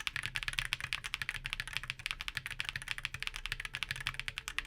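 Rapid typing on a mechanical keyboard fitted with Rice Pudding Hall effect switches and beige JC Studio keycaps, a dense, steady stream of close, crisp clacks with no talking.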